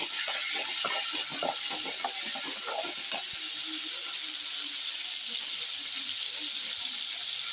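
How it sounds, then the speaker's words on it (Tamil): Mustard seeds and chopped tomato sizzle steadily in hot oil in a pan, a continuous hiss with scattered crackles and pops early on that settle into an even frying sound with no talking. "எண்ணெய் நல்லா சூடாயிடுச்சு. அதில் ஒரு டீஸ்பூன் கடுகு சேர்த்துப்போம்."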